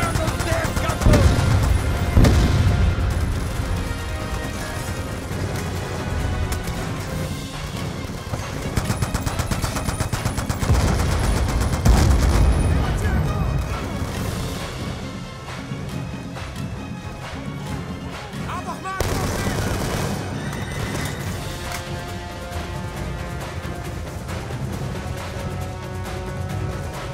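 Call of Duty Black Ops 2 firefight against gunboats: dense, loud, continuous automatic gunfire with heavy booms and crashes, and shouting voices mixed in throughout.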